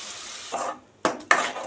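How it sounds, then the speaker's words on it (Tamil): Ground tomato paste is dropped into onions frying in hot oil for a dried-fish curry, giving a soft sizzle and then two sharp, close wet splashes and hisses as it hits the pan. "இப்போ இதோட அரைச்சி வச்சுருக்கிற தக்காளி சேர்த்திக்கலாம்"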